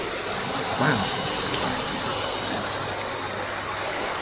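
A Hornby BR H Class model train runs steadily on its track, producing a continuous soft whirring hiss from the small motor and wheels that holds at an even level throughout.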